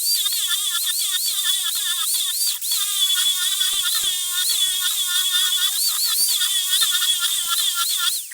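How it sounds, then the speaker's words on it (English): A wire wheel on a power tool grinds the surface of a wooden board. The motor's whine is loud, close and steady, with shifting pitch and scratchy bursts as the wheel bites the wood, and it runs without a break. "Now I'm gonna test this out on this board here using the wire wheel."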